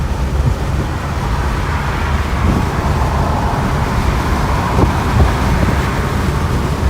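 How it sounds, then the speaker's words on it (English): A 1949 Cadillac accelerates on the road, its engine a steady low rumble blended with tire and wind roar at constant loudness throughout, with no voices. "Accelerating up to speed here."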